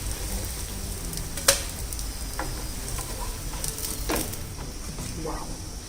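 Vegetable pancakes crisp in a hot pan, turned side to side, giving a soft, steady sizzle with a few sharp pops and light scrapes, moderately faint.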